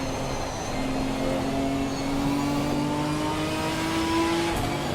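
A Ginetta GT4 race car engine in Assetto Corsa Competizione, lapping Laguna Seca in a league race, holds a loud, steady drone whose pitch climbs slowly as the car accelerates in fourth gear.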